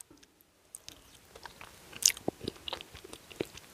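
Cassava leaf stew with fufu and cow foot chicken is bitten and chewed up close, with soft wet mouth sounds, a sharp crunch partway through and irregular smacking chews afterward.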